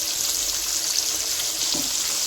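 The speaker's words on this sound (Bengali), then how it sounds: "এটা ভেজে নিব" A steady hiss of paneer frying in a pan throughout, fairly close and even, with no talking.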